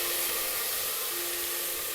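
Meatballs sizzling in a pan with butter, a steady bright hiss of frying that holds at an even level throughout, with no voices over it.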